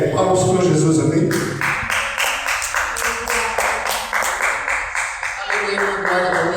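A church congregation at a Portuguese-language teaching and prayer service claps for Jesus in a steady rhythmic beat, many hands together under ongoing speech and worship sound.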